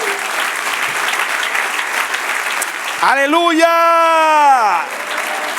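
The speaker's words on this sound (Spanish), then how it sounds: "Dale un aplauso al Señor." A church congregation at a Spanish-language service applauds loudly and steadily, then a single voice rings out over the fading clapping with a sustained shout of praise.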